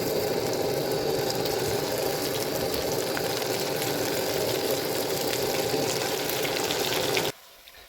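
Lentil paste fritters fry in hot white oil with a dense, close, continuous crackling sizzle that runs steadily for several seconds before cutting off abruptly, no talking.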